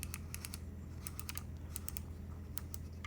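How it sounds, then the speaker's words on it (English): A touchscreen knob on a computer keyboard is swiped repeatedly, giving crisp, light clicky ticks in uneven clusters, close and clear over a steady low hum, with no voices. "this is a touchscreen knob, and the knob sounds like this."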